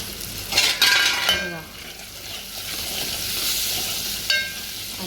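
Masala spooned into a hot pan for a fish dish fries with a steady sizzle, opening with a few sharp metallic spoon clinks and scrapes, then a continuous close hiss.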